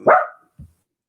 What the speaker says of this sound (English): He's probably barking because he hears my voice.